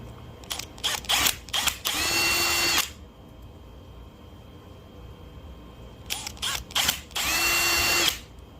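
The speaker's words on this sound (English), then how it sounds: "I found a 108 thousandths drill, so that one should drill slightly oversized" Two bursts of high-pitched drilling into a phone mount with a small 0.108-inch bit, separated by a few seconds of quiet, each opening with short stuttering starts before a steady whine.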